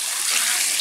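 Water pours steadily into a bathtub and churns up bubbles, making a continuous bright hiss of gushing water with no pauses.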